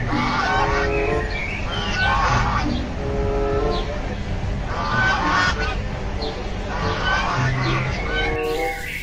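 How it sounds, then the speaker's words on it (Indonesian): A goose honks repeatedly in loud, nasal bursts that come in clusters over about nine seconds, close and dominant above a busy background with some speech. "Wow, ini seekor angsa."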